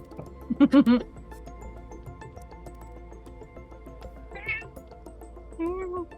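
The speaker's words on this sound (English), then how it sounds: "I thought someone was using a soundboard. It's an actual cat." A real house cat meows several times close to the microphone, a loud cluster near the start and fainter meows later, over a low background hum with occasional faint voices.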